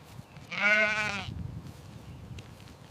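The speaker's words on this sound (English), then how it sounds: "The sheep graze peacefully in the enclosure." A single sheep bleats once, loud and close, in a farm enclosure, followed by quiet background rustling.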